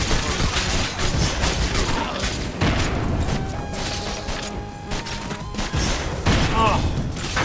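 Rapid, crowded gunfire from enemy soldiers in the video game Bionic Commando Rearmed: dense bursts of shots and crashing impacts keep going without a break, loud and close, mixed with other game effects.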